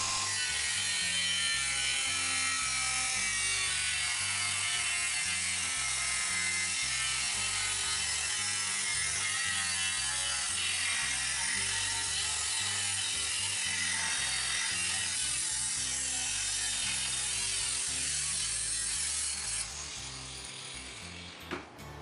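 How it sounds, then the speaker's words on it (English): A jigsaw cuts through a boat trailer walking platform, a loud, steady, buzzing saw rasp running close and continuous for about twenty seconds before abruptly stopping, with no talk. "Finish the cut with the jigsaw."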